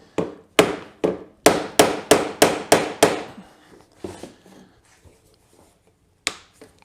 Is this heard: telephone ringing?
no